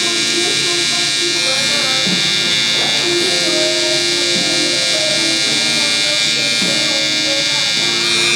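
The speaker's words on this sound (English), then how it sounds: "I'm literally leaning the trimmer against this finger" An electric hair trimmer buzzes steadily throughout while cutting hair during a low taper haircut, a constant close whine with faint scraping textures and occasional talk underneath.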